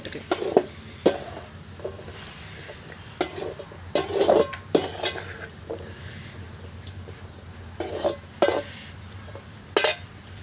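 Vegetables for chicken noodles sizzle in a pan while a spatula stirs and scrapes in repeated bursts, metal clinking against the pan, close by with no talking.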